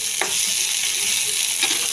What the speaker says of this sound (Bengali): এবার এটা দিয়ে একটু ভাজা ভাজা করে ব্যাস আমার রেডি হয়ে যাবে বরবটি রসুন দিয়ে ভাজা